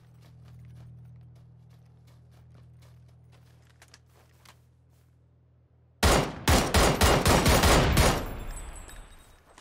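Gunfire in PUBG on Xbox One, a quiet stretch of faint ticking followed by a loud, close burst of rapid repeated shots lasting a few seconds, with no talk over it.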